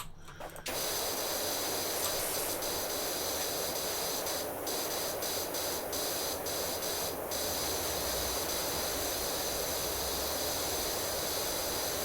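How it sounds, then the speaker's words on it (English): Pressure washer spraying in PowerWash Simulator, a loud continuous broadband hiss that starts abruptly and holds steady throughout, with a few brief pulses in the spray. "I'm going to go ahead and just give that a quick spray"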